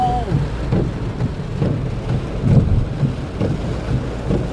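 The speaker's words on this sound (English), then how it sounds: "There's some strong winds right now. Thunderstorms." Strong hurricane winds and thunderstorm during Hurricane Michael in Florida, heard as a rumbling buffeting roar with repeated low gusts hitting the microphone and a rain-like wash throughout, with no clear talk.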